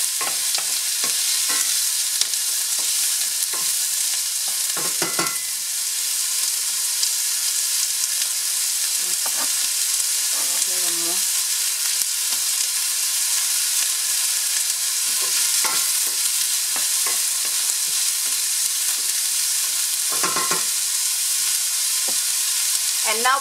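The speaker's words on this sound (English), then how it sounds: "We're going to saute the onion until it's translucent." Onion sauteing in a pan, a steady close sizzle with occasional scraping stirs, no voices.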